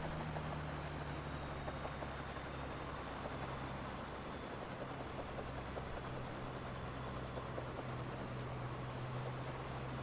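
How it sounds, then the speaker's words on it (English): Steady, dense rotor and turbine drone of a Eurocopter helicopter in flight in Microsoft Flight Simulator 2024, a continuous loud whir with a low hum underneath and no pauses or voices. "We are flying a little bit the Eurocopter"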